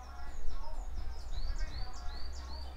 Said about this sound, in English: the birds are singing, birds are happy